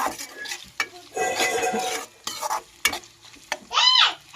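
Beetroot stir-fried with ginger paste in a pan: a spoon scrapes and stirs in uneven bursts over a steady sizzle, close by, with a final sharp metallic scrape and no talking.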